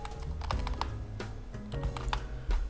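Computer keyboard typed on slowly and unevenly, hunt-and-peck style, with distinct close clicks and clacks spread across a few seconds and no talking.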